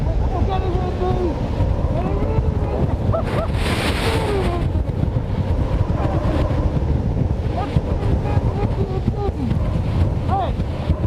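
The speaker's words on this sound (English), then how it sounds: "this is about 65, maybe 70 miles an hour worth of wind." Strong wind of about 65 to 70 miles an hour roars continuously and loudly into the microphone outdoors, with faint voices partly buried under the gusting rush.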